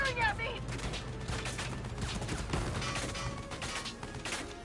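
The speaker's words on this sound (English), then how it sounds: "Yeah, they're firing at me." Gunfire crackles in the Valkyria Chronicles 4 video game, a busy burst of shots and impacts at moderate volume mixed with game sounds, with no one speaking over it.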